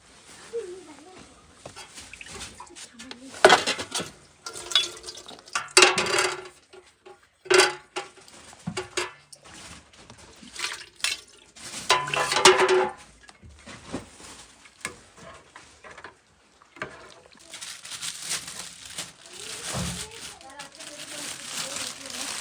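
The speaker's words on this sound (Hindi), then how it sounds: "चम्मच इसको सही से धो लो रे, धो लो" Spoons and dishes are washed in a winter mountain village home in Pakistan. Cutlery and pots clink and clatter in uneven bursts at close range while voices talk nearby.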